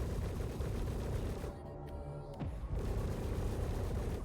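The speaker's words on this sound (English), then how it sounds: "They are just spamming missiles on me" In the Star Citizen space game, missiles strike a spaceship in a dense, rumbling barrage of impacts and booms, with a short quieter gap midway before the pounding resumes.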